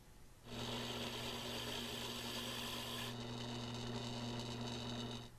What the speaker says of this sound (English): With the mounting holes drilled